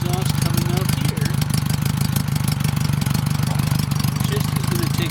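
A Honda Goldwing motorcycle engine idles while warming up, a steady, close, even rumble running throughout, with a voice talking faintly over it.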